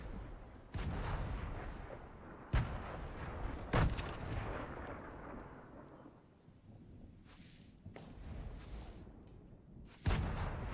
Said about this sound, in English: Should we throw a grenade already?